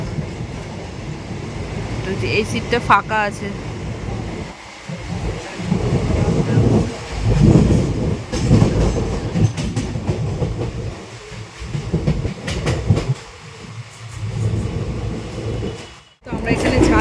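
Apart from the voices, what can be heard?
passenger train running after Dum Dum station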